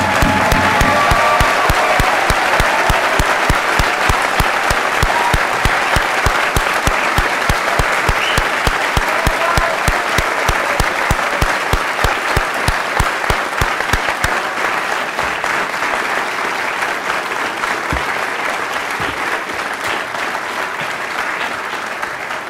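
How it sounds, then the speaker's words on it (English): A medical school white coat ceremony audience gives the newly coated students a long, loud round of applause, dense clapping with a few cheers that gradually thins toward the end. "let's give a resounding round of applause"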